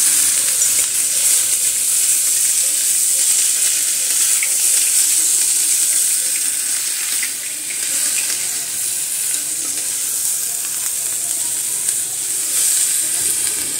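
Vegetables and millets fry in a pan on a home stove, a steady loud sizzle and hiss running throughout with faint background noise.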